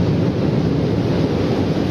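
Storm surge waves pounding the Sicilian coast at Sant'Agata di Militello, a loud, steady roar of surf mixed with wind buffeting, with no clear individual breaks.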